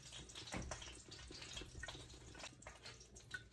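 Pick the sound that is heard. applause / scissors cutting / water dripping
water dripping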